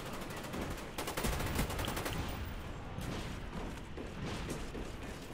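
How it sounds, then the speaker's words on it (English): Sustained automatic gunfire from a Call of Duty: Black Ops multiplayer Domination match, dense rapid bursts rattling continuously with overlapping shots, loud and steady throughout without talk. "thought I was going to win that gunfight"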